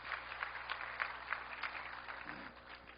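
A church congregation claps faintly and steadily after a prayer to welcome a woman preacher to the front, a soft wash of hand claps with a few louder bursts.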